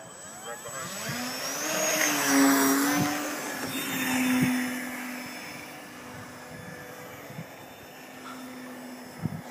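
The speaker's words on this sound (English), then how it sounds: "Jason's flying his Hobby Zone T-28. I got their Spitfire out for a maiden flight." Small Hobby Zone T-28 and Spitfire RC model planes fly outdoors, their electric motors whining and buzzing as they pass, swelling and fading with distance.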